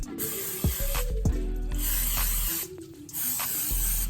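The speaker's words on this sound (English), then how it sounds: "Be careful you don't spray no one in the eye with that" An aerosol cooking spray can hisses in several close, sustained spray bursts, separated by brief pauses and a few light clicks, while baking banana bread.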